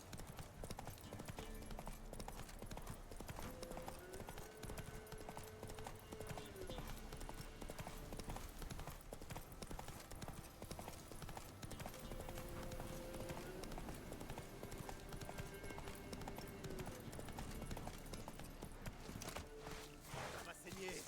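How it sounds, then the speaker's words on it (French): Horse galloping in The Witcher 3 with steady rhythmic hoofbeats that run continuously and stay fairly faint under in-game sound. "Au galop, Ablett."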